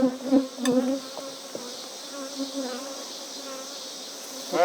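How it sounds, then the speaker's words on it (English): Close buzzing of a bee, loud at first and then fading into a softer drone as it drifts, with a brief loud return at the end. "I found that bee and she flew away."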